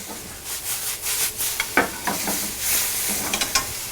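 Vegetables for a tagliatelle cream pasta sizzle in a hot pan. A spatula stirs and scrapes them in irregular bursts of clatter over a steady frying hiss, with no talking.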